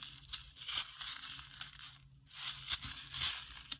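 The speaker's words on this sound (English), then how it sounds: "I just have to remove some paper" Paper is torn and crinkled off a handmade Halloween craft card box in a few soft, close ripping and crushing strokes with brief pauses between, fairly quiet throughout.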